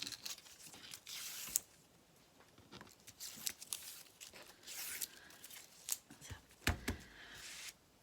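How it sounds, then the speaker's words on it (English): Foam tape backing peeled away during card making, giving a run of crisp tearing and crinkling rustles with short sharp snaps, close and fairly quiet with no talk. "then pull my tape out"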